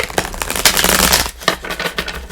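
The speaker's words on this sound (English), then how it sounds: "Let me give it a good shuffle." A deck of tarot cards is riffled and shuffled in quick, papery bursts close up, with a brief pause in the middle and no talking.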